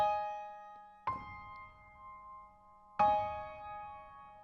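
Piano playing the two-measure introduction to a song, two separate struck chords that ring and slowly decay, close and fairly quiet, with nothing else audible.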